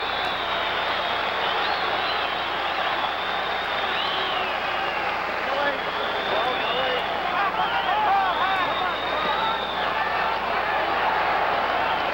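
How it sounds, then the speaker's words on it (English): Crowd at a middleweight title boxing fight gives sustained applause and cheering, a broad, steady wash of clapping and murmur that stays even and moderately loud throughout. "Crowd is applauding."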